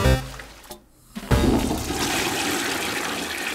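A toilet flush sound effect: a short burst, a brief near-silent gap, then a loud rushing swirl of water that carries on steadily to the end, with no talking.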